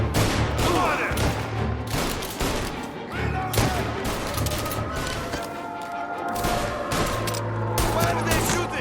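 Rapid gunfire bursts and heavy impacts crash repeatedly through a shootout in the video game Mafia Definitive Edition, loud and dense, with overlapping shots, crashes and game music or voices mixed underneath.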